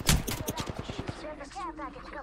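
Close rapid gunfire in an online shooter game, a burst of sharp evenly spaced shots that fades out as a voice speaks over the end.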